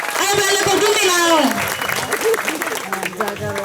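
A congregation at a Christmas mission gathering breaks into loud, close applause, with a raised voice calling out over the first moments before the clapping carries on alone.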